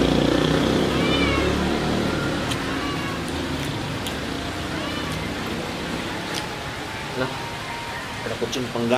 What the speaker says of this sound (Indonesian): Ada kucing pengganggu.